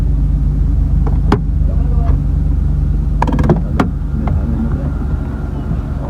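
A motorcycle in a traditional KPK village brakes, its engine rumbling steadily up close under wind buffeting, with a few sharp clicks and knocks in the middle.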